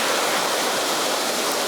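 Fast river water of moderate depth rushes in a loud, unbroken roar close by, a dense wash of sound with no voices.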